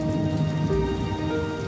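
Steady rain falls in a constant dense hiss, loud and close, with no voices or other sounds breaking through.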